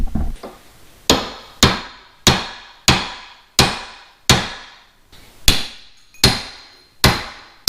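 A hammer drives a socket against a U-joint cap on a Dana 60 axle, eleven loud, sharp metallic strikes falling at a steady rhythm of roughly one every two-thirds of a second, close up with nothing else heard.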